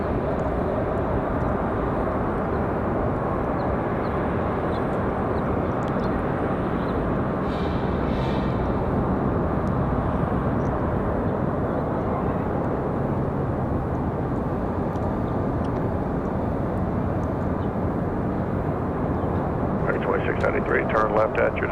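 An American Airlines jet from DFW at Raleigh-Durham airport produces a loud, continuous engine rumble throughout, with a person talking over the roar.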